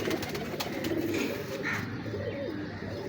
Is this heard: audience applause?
no